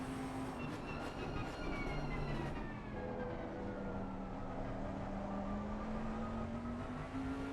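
A Bentley GT3 race car engine in Assetto Corsa Competizione at Oulton Park drones steadily, its whining pitch gliding up and down as it drives, with no talking.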